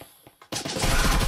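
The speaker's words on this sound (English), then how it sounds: "Alright, gunshot." Gunfire in the VR shooter Breachers VR: a couple of faint taps, then a sudden loud burst of rapid shots that keeps going, close and dense, with no talk.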